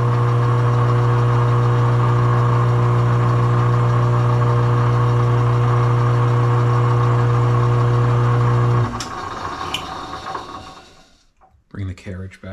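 A metal lathe runs in reverse during thread cutting, giving a steady loud motor hum with a strong low drone that cuts out near nine seconds, leaving fainter mechanical clunks and rattles.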